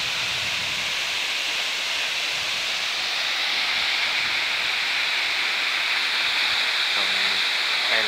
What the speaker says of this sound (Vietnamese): thác rất đẹp.